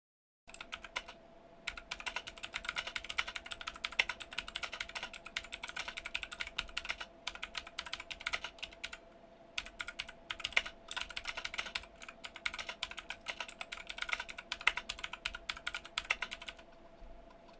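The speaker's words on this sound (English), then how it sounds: "yes, it is clicky with its blue tactical switches" A 60% mechanical keyboard with clicky blue switches is typed on in steady, rapid bursts of sharp close clicks, with a few brief pauses and no voices.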